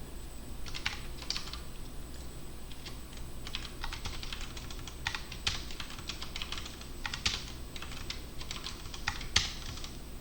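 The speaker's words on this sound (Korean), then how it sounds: "타이핑을 하는 게 빠르겠네요." Rapid typing on a computer keyboard during web development coursework, with steady clicking and bursts of keystrokes that continue for about ten seconds over a quiet room hum, close and fairly soft.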